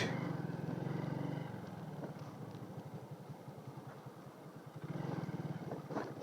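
A motorcycle rides along a border road after a long day's ride, its engine a steady low drone with a rapid pulsing throb in the middle stretch and rising wind rush at the start and end; no talk.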